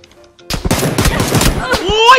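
Rapid bursts of gunfire in a shooting video game, several quick close shots in a cluster followed by more sporadic cracks, with excited talk mixed over the shooting.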